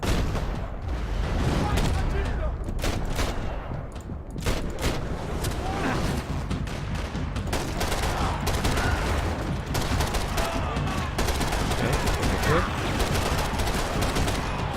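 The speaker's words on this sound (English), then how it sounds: "Someone's shooting me from that direction" Sustained Max Payne 3 gunfire roars on throughout, with sharp shots and rapid automatic bursts layered into a constant firefight while a voice talks over the shooting.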